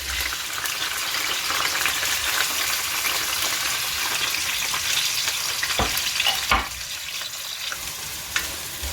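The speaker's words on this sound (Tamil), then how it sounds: "இப்போ ஒனியன் கொஞ்சம் இந்த ஆயிலில் நல்லா வதங்கட்டும்" Onions fry in hot oil with curry leaves for a beef biryani, giving a steady close sizzle with a couple of sharp stirring knocks near the end.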